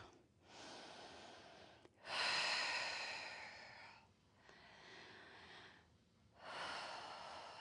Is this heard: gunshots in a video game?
no